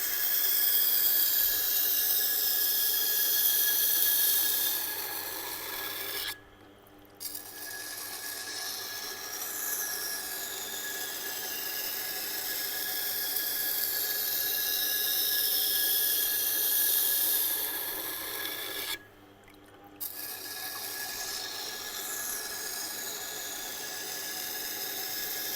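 A kitchen knife strokes steadily over a resin bonded diamond stone in a long, continuous gritty scraping hiss, close and sustained, broken by two brief pauses, with no talking.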